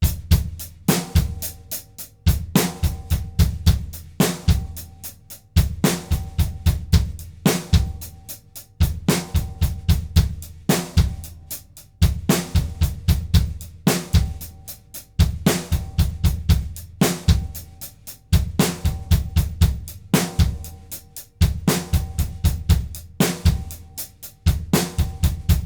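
A drumset plays a moderate-tempo triplet-feel beat, bass drum taking the first two notes of the triplet, with a steady repeating groove of punchy kicks and bright cymbal hits throughout.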